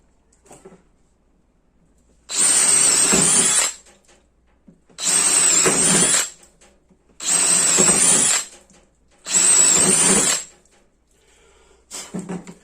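A Craftsman brushless cordless drill with a ratcheting chuck whirs in four bursts of roughly equal length, separated by short quiet pauses, close and loud.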